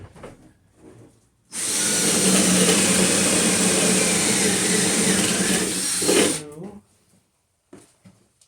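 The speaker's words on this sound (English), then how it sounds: "we're going to drill some holes." A power drill bores holes for interconnected smoke detector wiring, a loud steady whine lasting about five seconds before stopping, with a person talking briefly before and after.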